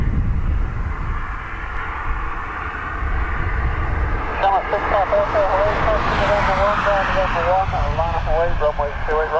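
An Antonov AN-26B at Dublin Airport gives off a loud, steady engine roar, joined midway by a wavering propeller drone that rises and pulses. Voices are heard faintly underneath.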